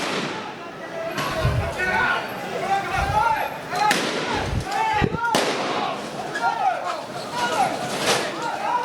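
Sharp cracks of police gunfire go off repeatedly over a noisy protest crowd in Mianwali, Pakistan, with people shouting throughout and several loud bangs standing out.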